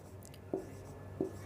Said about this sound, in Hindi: यहाँ पर थोड़ा सा मैं लिखता हूँ